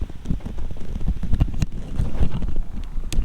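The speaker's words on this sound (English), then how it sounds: "Probably get lots of wind facing this way though." Steady outdoor wind buffeting the microphone beside an abandoned Chieftain tank, a continuous low rumble with gusty swells and a few faint knocks, no talking.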